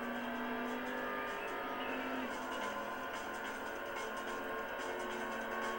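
Engine drone of a car racing in the Import Tuner Challenge video game, a steady loud tonal whine holding throughout with a slight pitch shift midway and no pauses.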